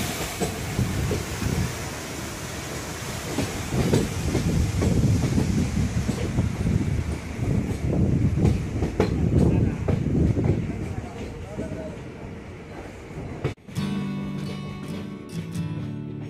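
Poorna Express passenger train running along wet rails in monsoon rain, a loud continuous rumble and rattle of wheels that fades near the end, leaving a quieter interior hum.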